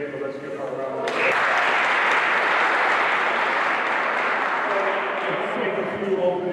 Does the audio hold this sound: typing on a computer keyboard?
no